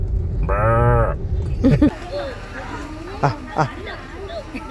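A single loud, close cow moo, followed by people talking and bustling nearby.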